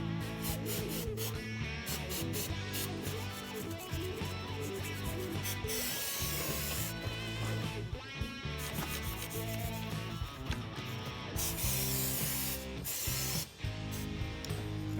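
A brush scrubs a greasy, grimy motorcycle chain sprocket, giving a steady, close rubbing and scraping that runs continuously with brief pauses and no talk.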